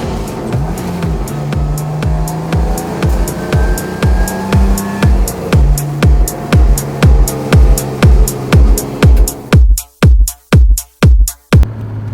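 A BMW E30 with a swapped-in S50 engine is driven hard on a mountain road, heard from inside as a loud, steady engine roar marked by regular ticking pulses, ending in a run of sharp on-off throttle blips.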